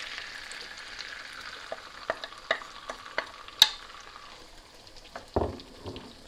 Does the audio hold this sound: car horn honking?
no